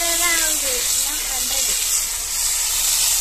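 Ingredients, mint and carrot for a mint rice dish, fry in hot oil on a home stove, giving a steady close hiss of sizzling throughout, with voices talking faintly over it.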